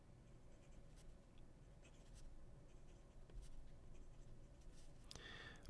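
A Hongdian 1860 Black Forest Max fountain pen scratches faintly across paper, soft close strokes in quiet irregular bursts with a slight paper rustle at the end.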